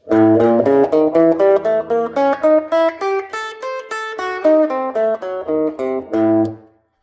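Electric guitar playing a lesson lick alone, a quick run of picked single notes and small chord voicings in a steady, even rhythm, close and clear, ending with a held chord that fades out.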